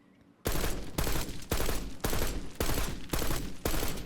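A SWAT 5.56 rifle fires in Black Ops 6, sounding as a rapid, loud series of about eight evenly spaced sharp shots, each with a short roaring tail, after a brief quiet lead-in.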